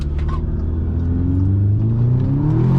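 An Audi S3 with a Stage 1 Ecotune accelerates hard, engine note climbing steadily in pitch as it pulls, loud and close from the cabin.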